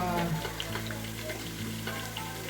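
Garlic and onion frying in a pan give a soft, steady sizzle with small crackles and light stirring, close but fairly quiet.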